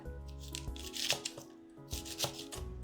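A leek being finely chopped with a knife on a board, quick rhythmic cuts in short runs, close and fairly soft, with a faint hum underneath.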